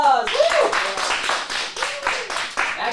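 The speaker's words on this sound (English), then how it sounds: "Round of applause!" A small group in an acting class gives a round of applause, brisk steady clapping close by with a few cheers and voices mixed in.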